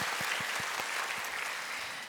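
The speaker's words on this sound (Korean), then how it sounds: "격려의 박수 한번 하겠습니다" Church congregation at a Friday prayer meeting giving encouraging applause for university youth heading out on domestic mission, a full steady roar of many hands with some distinct nearby claps, easing slightly at the end.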